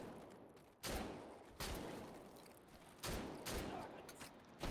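Bursts of gunfire from a competitive first-person shooter match, several broad loud volleys a second or so apart, each spreading across the whole range, with steady noisy background between them.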